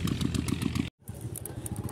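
A motorcycle engine runs close by with a steady, throbbing rumble that cuts out for an instant before carrying on.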